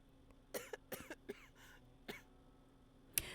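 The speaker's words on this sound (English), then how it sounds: "Like those coughs, the coughs from the ending of the last recording had me nervous." A voice-acted character in the game Hydrangea coughs in a ragged run of short, harsh coughs. A brief lull follows, then one more cough and a sharp, louder final hack.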